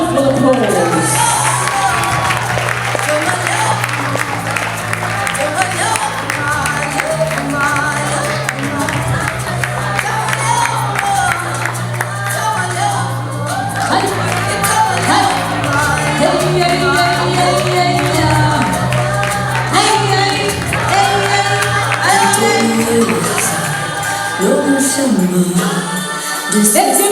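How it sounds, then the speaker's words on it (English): A crowd at a Wild Coast fashion show claps and cheers under loud music with a heavy beat. The applause runs on without a break, blended into the music and crowd noise. "Let's give them a wonderful applause."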